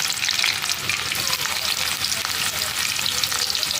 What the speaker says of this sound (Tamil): நம்ம வெங்காயத்தை எடுத்து போட்டுக்கலாம். கோல்டன் ப்ரௌன் ஆகிற வரைக்கும்